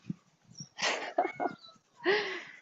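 A cat meows loudly outdoors, giving three drawn-out, wavering yowls with short gaps between them, close and clear against a quiet background.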